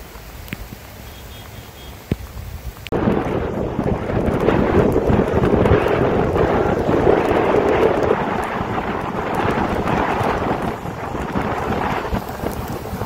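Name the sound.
rain with thunder during a drive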